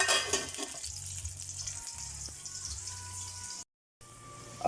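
Pork chop frying in a pan, a steady close crackling sizzle with a low hum beneath, cutting out briefly near the end before resuming.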